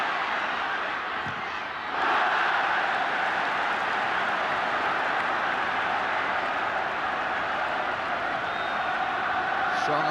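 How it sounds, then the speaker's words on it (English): Football stadium crowd at Watford v Liverpool applauding a corner, a broad, steady roar of clapping that swells after a quieter start and holds loud and dense throughout. "Strong applause for the corner"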